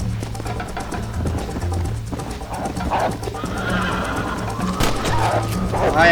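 A horse neighs and hooves clatter in Red Dead Redemption, with game effects and a player talking over the steady bed of sound; whinnies rise near the end.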